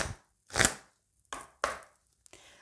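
A deck of tarot cards being cut and shuffled: several short, crisp riffling and slapping bursts separated by silence, close and fairly loud.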